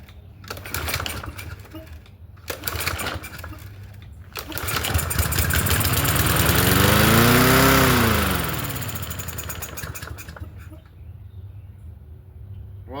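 A Yard Machines 21-inch push mower with a 163cc engine, its throttle sticking, sputters and then revs up to a loud racing whine before settling back. People talk briefly around it.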